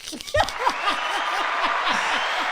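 A crowd breaks into applause, a dense even patter of clapping after a brief laugh at the start, with a voice rising in pitch over the top.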